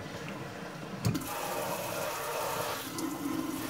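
Water runs steadily from a salon sink tap for a hair wash, a continuous close rush that starts with a brief splash and holds at an even level throughout, with no talking.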